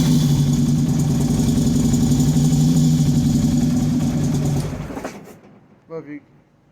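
A car engine with a suspected bad battery holds a steady loud rev for about five seconds, then drops away and cuts off, leaving near silence with a couple of brief faint knocks at the end.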